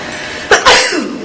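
A single sharp sneeze in a room, two quick bursts close together, loud and near, then fading into quiet with no talk.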